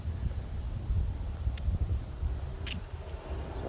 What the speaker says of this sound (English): It's a little bit windy today, so I apologize if I don't have my mic set up right.